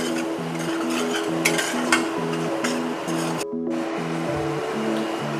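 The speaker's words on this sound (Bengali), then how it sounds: "ভালো করে এটাকে একটু ভাজা ভাজা করে নেবো তেলে" Oil sizzles steadily as coriander powder and spices, with ginger and green chili, fry in a pan for a katla fish curry, with a brief dip in the middle and some faint stirring clinks, no talk.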